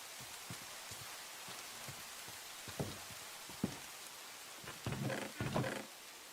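Rain falls in Minecraft, a steady soft patter of drops throughout with a few louder rustling bursts near the end and no talking.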